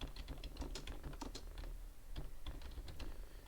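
Quick, close keystrokes on a computer keyboard as a number is entered, a brisk irregular clatter of clicks with short pauses, fairly quiet, with no voices.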